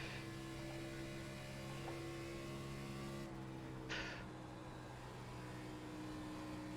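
Xfinity race car engine in the iRacing video game at Chicagoland, a steady harmonic drone held at constant pitch throughout, with a brief higher burst midway and no talking.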